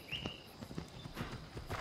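Horse hooves clip-clop in Assassin's Creed Odyssey, a quick, steady run of close, crisp hoofbeats over light ambient game sound.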